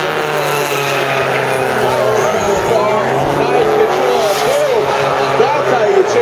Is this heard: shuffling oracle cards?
no